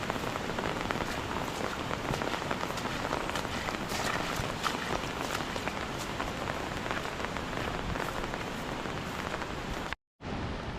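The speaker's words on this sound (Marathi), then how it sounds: "खूप जोरदार पाऊस चालू झाला आहे आता" Heavy monsoon rain pours in the Konkan countryside near temples and a river. It is a loud, dense, unbroken hiss of rain hitting surfaces, with scattered sharper drop impacts, and it holds steady until a brief cutout near the end.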